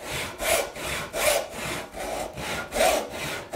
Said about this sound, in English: Long saw strokes. Let this saw saw. Don't force it.